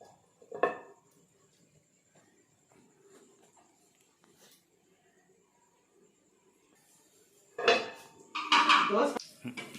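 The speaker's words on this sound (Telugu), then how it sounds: "ఇప్పుడు మనం దీనిపైన మూత పెట్టాలి" A metal lid clanks onto a pan while a thick flatbread cooks: one short clatter near the start, then a longer, louder rattle of metal on metal toward the end, with near-silence between.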